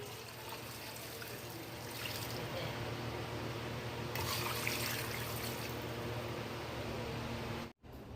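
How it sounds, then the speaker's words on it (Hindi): Water poured into a pressure cooker holding beef trotters for paya, a continuous close splashing rush that runs steadily and cuts off abruptly near the end. "और मैं पानी पावां दी"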